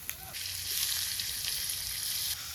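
Chopped green chili and tomato hit hot oil in a wok and sizzle loudly, a bright steady crackle that starts with a sharp burst and holds for a couple of seconds before easing slightly.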